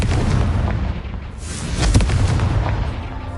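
Confringo fire spell cast in Hogwarts Legacy during Merlin trials, a loud sustained explosive rumble with a sharper burst near the middle and a rolling boom trailing off.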